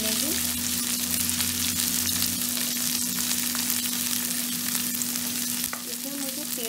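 Large pieces of capsicum and onion fry with soybean chunks in a little oil, making a dense, steady sizzle close by, with a low hum underneath and a single sharp knock near the end.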